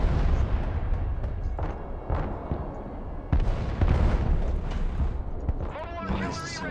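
Bombing of tanks in the Broken Arrow strategy game: a dense run of booming explosions and blasts, close and loud, with players talking over the barrage.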